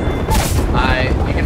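Gunfire striking the player in Apex Legends during a competitive scrim, a dense burst of booming impacts and rattling shots filling the short span, with players talking over it.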